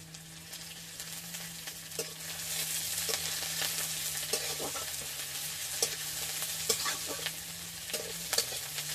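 Onion, dried red chilli and chopped garlic fry in oil with a steady close sizzle, broken by scattered scrapes and clinks of a spatula stirring the pan throughout; no voices.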